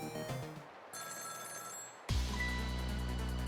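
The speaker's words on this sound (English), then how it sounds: "The phone is ringing?" A telephone rings in the video game Ghost Trick: Phantom Detective, with electronic ringing tones that cut in, pause and return louder alongside game music, no talk.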